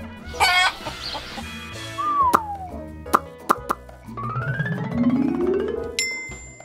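A chicken clucks briefly near the start, followed by plinking, sliding musical tones and a rising tune with no voices.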